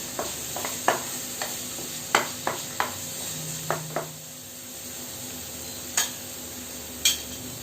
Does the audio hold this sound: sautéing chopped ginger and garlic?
yes